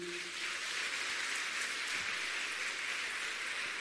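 A church congregation taps two fingers against their palms to imitate falling drizzle, making a soft, steady, even patter of many small claps that continues without pause.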